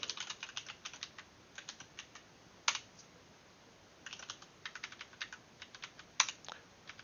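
Computer keyboard being typed on, with quick bursts of crisp key clicks, a few louder single taps and brief pauses between runs, close and fairly quiet, no voices.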